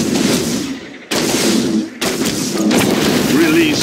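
Gunfire and explosions roar continuously through a StarCraft II co-op battle, Mengsk's capital ships and Fenix's carriers engaged, dense and loud with brief cuts, while a game voice announces alerts over it.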